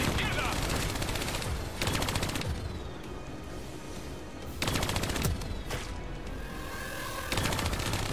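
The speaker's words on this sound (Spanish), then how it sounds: "Aquí hay mucha explosión" Dense gunfire and explosions from a cooperative campaign mission in Call of Duty: Black Ops 3, with sustained automatic bursts, booming blasts and loud bursts that keep returning over a constant roar of battle.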